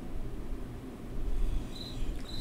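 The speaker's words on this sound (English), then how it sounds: "Crickets anyway, in the background." Faint crickets chirp in short high bursts against a quiet low background hum, distant and sparse.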